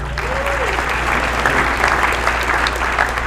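Audience applause at a community foundation awards breakfast, a steady dense wash of clapping from a room full of people, sustained and fairly loud across the whole stretch.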